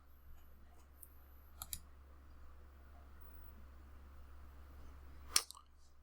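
Computer mouse clicks while a project is selected in a software workspace: a few faint, isolated clicks over a low steady hum, with one sharper click near the end.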